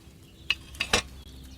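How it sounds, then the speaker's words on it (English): Cauldron of wine boiling and bubbling over a fire in Kingdom Come Deliverance 2, heard as a few sharp bubbling pops and splashes in quick succession over a quiet background. "Hear that bubbling? It's boiling."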